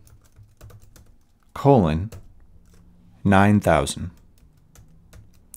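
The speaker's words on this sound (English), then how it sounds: "type localhost" Sparse, soft key clicks as a web address is typed on a computer keyboard, faint in the background while a voice speaks in two short phrases over them.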